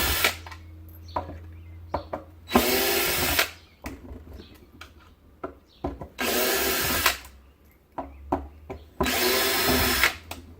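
A power driver backs Torx screws out of a device case, whirring in three long bursts with clicks and handling knocks between them, close up and without talk.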